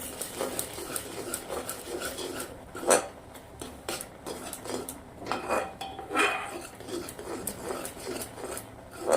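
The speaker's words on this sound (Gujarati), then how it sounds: "હવે આપણે સરસ મિક્સ કરી દેવાનું છે" Bread pieces stirred into milk in a pan for mawa, a spoon scraping and clinking against the metal in an uneven rhythm, quiet and close, with no one speaking.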